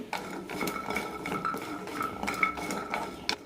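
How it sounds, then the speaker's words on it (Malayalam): Jackfruit seeds roasting in a hot pan over a low flame, with steady clinking and scraping of seeds and utensil against the metal, close and fairly quiet. "പാൻ ചൂടായിട്ടുണ്ട് ലോ ഫ്ലെയിമിലിട്ട് വറുത്തെടുക്കാം"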